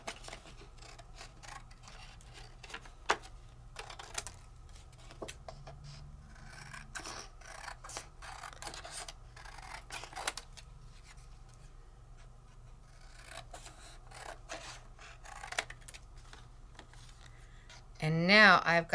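Scissors cut a paper card with soft, intermittent snips and rustling paper, close and quiet, under low talk, ending in a louder burst of handling noise.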